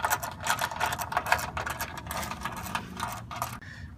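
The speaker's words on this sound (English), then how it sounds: "To remove the overflow support, we're just taking out these two 8mm bolts." A ratchet or power tool spins out two 8mm bolts from an overflow support, giving a rapid mechanical whirring and clicking in short bursts, close and moderately loud, with a brief pause near the end.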